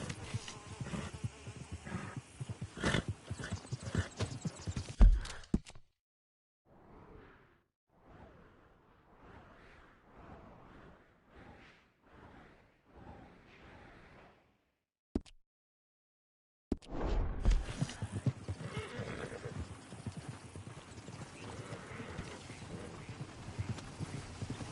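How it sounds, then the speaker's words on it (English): Horse hooves clip-clop in the Red Dead Redemption 2 video game, stretches of busy hoofbeats with buzzing insects broken by a quieter middle passage of spaced soft thuds and abrupt silent gaps. "Damn horse acting up on me."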